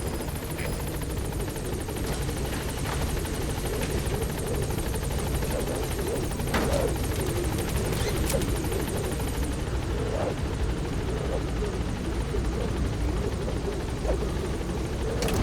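In the Metal Gear Solid V video game, the P-Quad support helicopter drones loudly and steadily as it arrives at a landing zone. The rotor roar stays constant and close throughout, with a high whine above it.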